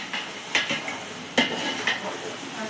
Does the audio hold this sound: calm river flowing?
no